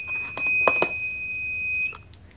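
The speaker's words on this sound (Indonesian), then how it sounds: "Ini ada speaker, suara bunyi ketika mendekati objek." Universal car parking sensor with display monitor and silent switch giving steady high warning tones, a few brief clicks near the start, then stopping abruptly near the end.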